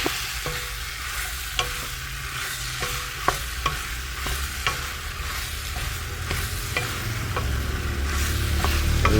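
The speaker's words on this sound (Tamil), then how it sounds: "போட்டு பரட்டி விடுவோம். இது நல்லா வதங்கணும் வெண்டைக்காய்." Okra (vendakkai) is stir-fried in a pan, with a steady sizzle of frying and regular scrapes and taps of a spatula repeating every second or so, and no one speaking.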